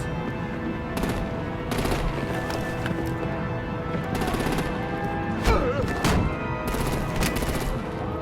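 Rapid artillery and machine-gun fire from a battle scene in the Batman: The Enemy Within video game, loud repeated bursts of shots over a steady rumbling backdrop with clattering, no speech.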